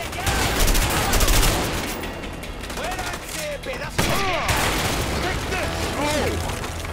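Gunfire in the video game A Way Out, dense overlapping shots and bursts rattling continuously, loud and close, mixed with game sounds and brief voices.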